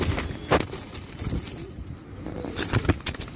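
A female pigeon coos in short soft bursts among several birds, with wing flaps and faint background noise.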